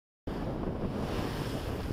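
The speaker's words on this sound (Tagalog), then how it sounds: "sa kabila ng lakas ng alon, no?" Strong sea waves surge on Manila Bay around a fishing boat, a loud, continuous wash mixed with wind buffeting the microphone, starting abruptly after a brief silence.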